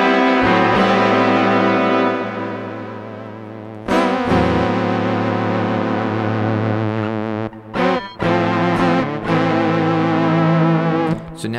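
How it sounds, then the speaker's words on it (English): Roland GR-300 analog guitar synthesizer blended with Hex Fuzz, with thick, sustained fuzzy synth-guitar chords swelling and wavering, briefly cut off and restruck, loud and close. "where we have a blend of the Hex Fuzz and guitar synthesizer sound"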